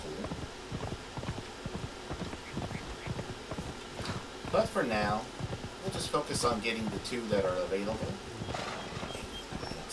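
A horse gallops in the video game Conan Exiles, its rapid, rhythmic hoofbeats running steadily throughout while someone talks over them.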